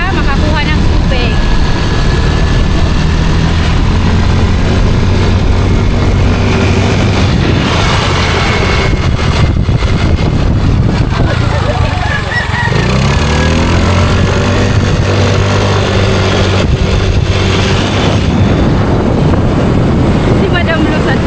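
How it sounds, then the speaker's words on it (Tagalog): A gasoline engine running a water pump drones steadily and loudly throughout, with wind buffeting the microphone and people talking over it. "Magpapaandar kami ng makina para makakuha ng tubig."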